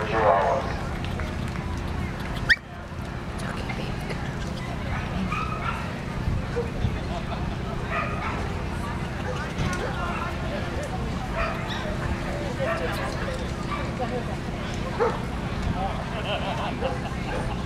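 Chihuahuas bark and yip from behind a doorway at a dog show in Burbank. The barking stays fairly distant and continuous under steady crowd noise and talk, with one sharp knock near the start.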